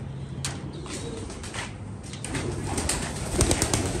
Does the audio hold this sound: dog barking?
no